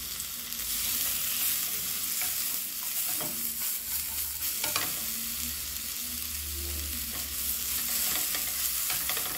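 Chile sautés in a little olive oil in a pan, giving a steady, full hiss of frying with faint stirring movements and a low rumble underneath.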